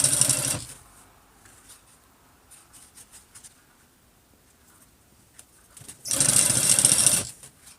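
Sewing machine stitching the yoke seam of jeans with a long stitch length, two loud steady whirring runs at the start and near the end, separated by quiet handling noises.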